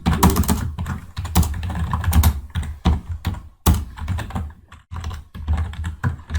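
Steady bursts of fast keystrokes on a computer keyboard while C code is entered, loud and close with brief pauses between runs of typing and no voices.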